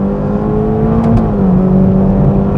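A Ferrari Roma Spider accelerates hard on an open road, its engine note climbing in a strong, steady rising drone with a brief gear change midway, loud and close with no talking.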